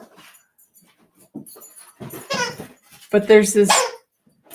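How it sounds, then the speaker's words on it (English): A pet dog plays indoors, letting out whimpers, yips and short barks in bursts, loud and close, while a person talks over it. "you can hear my dog playing."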